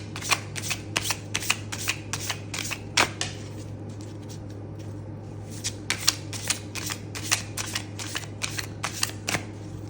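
A tarot card deck being shuffled by hand, a close series of quick crisp riffling bursts and soft card slaps, repeated in an uneven rhythm over a low steady hum.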